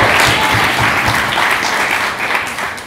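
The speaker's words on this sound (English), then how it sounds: "let's have a round of applause for Rosie" Wedding guests at a reception give the bride Rosie a loud, dense round of applause. Many hands clap together at once, a close and sustained burst that thins slightly toward the end.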